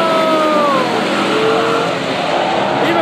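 A drag racing car launches hard with wheel spin at a Mopar drag strip event, a loud, continuous engine roar mixed with rising tire squeal that holds steady throughout.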